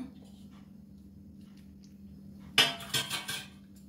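A fish head goes into a cooking pot of Bengali muri ghonto. After a quiet kitchen hum comes a sudden close clatter and splash lasting about a second, then a few smaller knocks of metal.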